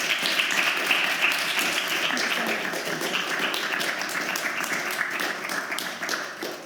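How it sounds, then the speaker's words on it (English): Warm applause from an audience at the Cambridge Union after a talk and Q&A, a steady, moderately distant wash of many hands that holds through the clip and fades slightly at the end. "If we could give a warm round of applause to Leanne."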